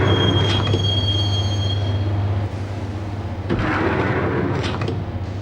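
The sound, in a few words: subway train ride in Max Payne video game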